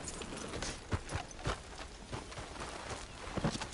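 Horse hooves clop at a walking pace in Red Dead Redemption 2, a run of soft irregular thuds over a faint ambient background.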